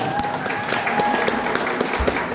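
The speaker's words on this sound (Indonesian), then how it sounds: "kita beri aplaus dulu untuk ketiga peserta" An audience at a final Musabaqah Fahmil Quran competition in Sambo, Kutai Kartanegara, applauds the three contestants with dense, continuous clapping from many hands filling the room, and a voice can be heard faintly underneath.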